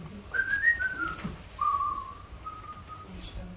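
A person whistles a short tune during a stage play, two sustained wavering notes, a pause, then a longer held note that fades, fairly close and clear with no speech over it.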